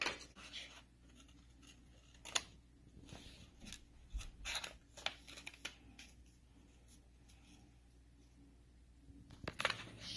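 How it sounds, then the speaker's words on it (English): Scissors snip through paper in quiet, irregular bursts, with short crisp cuts and rustling handling noises close by, separated by near-silent pauses. "Then stick your scissors inside of it and cut to the dot on the top."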